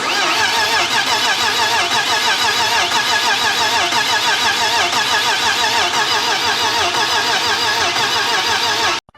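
A rebuilt BMW E36 engine cranks and catches on its first start, then runs loud and steady with a rough, rattling idle, close by and continuous with no voices.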